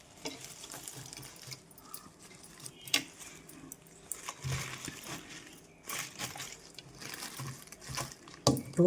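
Tap water runs and splashes in a sink while amaranth leaves are washed, a steady hiss broken by louder clattering splashes and handling noises throughout, close by and with no talk.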